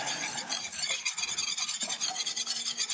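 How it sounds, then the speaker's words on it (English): Breakfast ingredients being stirred together in a bowl with a pinch of salt added, a steady scraping and rubbing of a utensil against the bowl, close and continuous with no talking. "And then you mix all that together"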